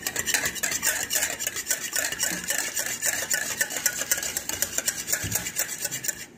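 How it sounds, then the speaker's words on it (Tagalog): Oil and two eggs being mixed in a bowl for a homemade date cake: a rapid, rhythmic clinking and scraping of a utensil against the bowl, close and continuous, with no talking. "Tapos, i-mix muna natin to."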